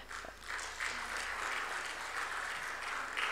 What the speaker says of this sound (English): So keep the applause going.